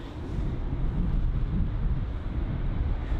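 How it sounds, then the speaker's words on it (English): Low, rumbling wind buffeting the microphone at London Heathrow airport, steady and gusty throughout with no voices. "the wind is definitely picking up at London Heathrow at the moment."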